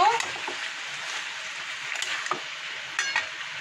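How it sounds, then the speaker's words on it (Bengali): Ground poppy seed paste is stirred into softened potatoes with ridge gourd and nigella seeds in a pan, giving a soft, steady sizzle broken by occasional scraping and tapping of the utensil. "এবার এই যে মিক্সিতে পোস্ত বেটে নিয়েছি, পোস্তটা দিয়ে দেবো। পোস্তটা দিয়ে নাড়াচাড়া করব।"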